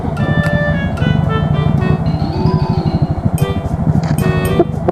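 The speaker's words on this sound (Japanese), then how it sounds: "マフラーの音が" Loud, close exhaust note from a Power Classic NEO fitted with a BEAMS muffler, a rapid pulsing burble with a rising whine as the engine revs while following closely behind another vehicle.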